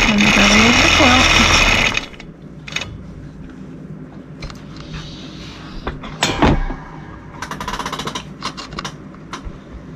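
A Gammill longarm machine runs in free motion quilting on an Attic Windows quilt, giving a loud steady mechanical whir for two seconds, then quieter intermittent clicks, clunks and short rattling bursts.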